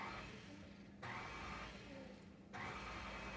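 A stand mixer churns cider donut batter in a kitchen, a steady whirring drone that rises and falls slightly as the beaters turn, with no voices.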